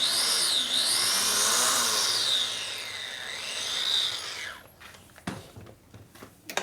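A drill bores a precision hole in a part for a 1967 Harley-Davidson 74ci Shovelhead engine during a motor rebuild, giving a steady high whine with shifting pitch for several seconds before it winds down into clatter and quieter handling noises.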